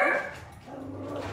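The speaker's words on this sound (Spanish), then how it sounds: "ya escuché un perro y ya se fue a ladrar ahí en la puerta" A dog barks at a house door: one sharp, fairly close bark followed by a short whining trail, heard alone.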